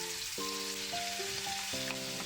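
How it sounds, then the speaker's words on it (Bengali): Oil hisses and sizzles softly in a hot pan before hilsa fish is fried with black cumin. The steady, faint crackle sits beneath a melodic musical backing. "প্যানটা গরম হয়ে গেছে, আমি এর মধ্যে একটু তেল দিয়ে নিচ্ছি।"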